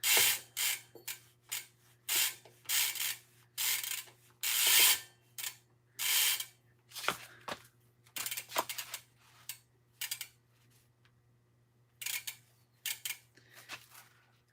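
Chain lube is sprayed and worked into a rusty bicycle chain in short bursts of hissing and rubbing, with gaps of quiet between them, close and fairly soft, with no talking.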